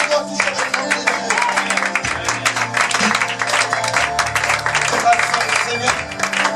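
A church congregation acclaims God during a French-language worship service, with bursts of cheering and clapping over sustained low musical tones.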